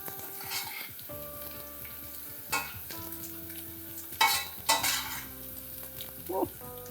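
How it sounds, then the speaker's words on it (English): Rice grains frying in a pan for traditional Mexican rice, a constant soft sizzle broken by several sharp scrapes and clinks of a spoon stirring against the pan, close up with no talking. "you want to keep stirring every grain of rice around so that all sides get cooked"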